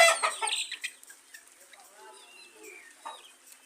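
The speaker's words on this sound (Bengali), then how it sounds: "মোরগ, এখানে মুরগি কিছু আছে" Tiger-breed chickens and a rooster on a poultry farm cluck in a loud burst of overlapping calls, then settle into softer, scattered clucks and chirps.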